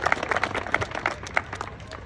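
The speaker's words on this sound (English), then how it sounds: "Can we get a round of applause for Dr." An audience at a medical walk event in Seattle gives a round of applause for a doctor, steady scattered clapping from a small crowd heard nearby, with a few sharper individual claps standing out.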